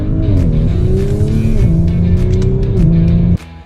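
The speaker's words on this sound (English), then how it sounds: "we actually just spun out the wheels there" A 2022 Audi S4 engine roars steadily with rising and falling revs and a faint tire squeal as the wheels spin out, loud and close, cutting off abruptly near the end.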